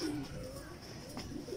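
A fancy pigeon in a Lahore pigeon loft gives a short, soft coo close by, faint against quiet background noise.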